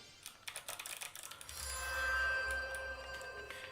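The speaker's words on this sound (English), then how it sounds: "I do need to hold the keyboard while I do this" Quick, close keyboard taps during a Touhou Danmaku Kagura rhythm game session, a rapid cluster of clicks at first, then thinning out as music swells underneath.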